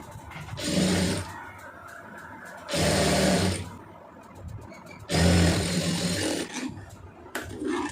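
A sewing machine stitches piping and a neat straight seam on fabric, running in three loud, close bursts of about a second each, separated by short quiet pauses.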